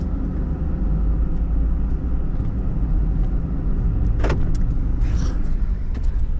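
A farm vehicle rumbles over rough ground on a small dairy farm, a loud steady low drone with rattles and a few sharp knocks and clunks from the jolting ride.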